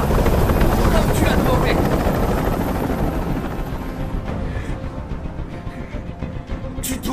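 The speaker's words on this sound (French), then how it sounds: "Je peux plus supporter ce bruit! Fais dégager cet hélicoptère," A helicopter hovers in the video game Detroit: Become Human with a loud, steady rotor thump and roar. Tense shouted dialogue runs over it.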